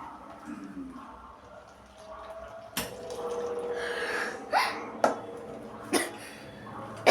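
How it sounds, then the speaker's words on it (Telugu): Water poured into a bowl of gram flour batter mixed with salt for bhaji, heard as a wet rushing pour followed by a few sharp splashes and slaps as it hits the thick mixture, fairly close. "పిండి అవ్వడానికి వాటర్ వేయాలి,"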